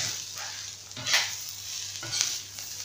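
Shawarma meat sizzles steadily in a hot pan, up close, while it is stirred, with scraping and frying crackle rising in a few brief surges. No one speaks.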